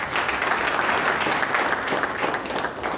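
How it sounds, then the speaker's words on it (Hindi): An audience at a Jain poets' gathering in Raipur bursts into loud, dense applause for national president Narendra Pal Jain, a sustained close roar of clapping throughout. "राष्ट्रीय अध्यक्ष नरेंद्र पाल जी का जोरदार तालियों से स्वागत।"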